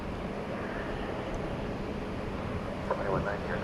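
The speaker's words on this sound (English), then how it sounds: "A350-1000, I believe that is, moving towards the Terminal D, which is where it will accept passengers for a flight later tonight" Airbus A350-1000 taxiing at DFW Airport at night gives a steady, distant low jet-engine rumble, with someone talking over it and a few higher tonal swells near the end.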